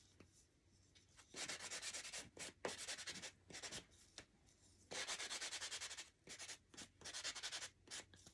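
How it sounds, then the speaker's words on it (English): A small sanding block rubs around the edges of a wooden block in repeated short bursts of scratchy friction, close and quiet, with brief pauses between strokes. "Now I have a little sanding block. I'll just do one of these. And I just kind of go around the edge."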